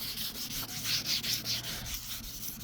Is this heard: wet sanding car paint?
yes